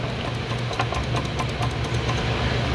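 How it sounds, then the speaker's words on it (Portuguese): A Vortec 4.3 V6 engine with play in its shaft runs steadily up close, a loud even hum carrying rapid rhythmic ticking and knocking throughout. "Ele dá uma leve folga no eixo, onde ocasiona um barulho em aceleração ou desaceleração,"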